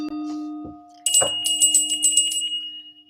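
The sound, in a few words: bell ringing for cleansing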